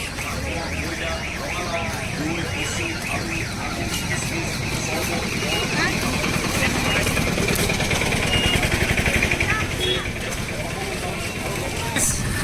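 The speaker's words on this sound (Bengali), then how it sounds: "বাইকে করে যাচ্ছি" A motorbike ride in rural Assam during rain: a steady engine drone with passing road and wind noise, and a voice talking over it.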